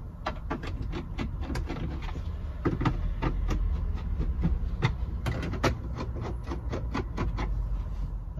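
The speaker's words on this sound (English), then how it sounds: "There is 5 T20 screws in here, so we'll just go ahead and remove them." Five T20 screws being removed from the glove box of a 2011 Volkswagen Transporter T5, with a fast run of close ratcheting clicks and scraping from a driver throughout, with no talking.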